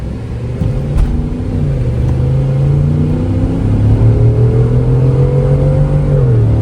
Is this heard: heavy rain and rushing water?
no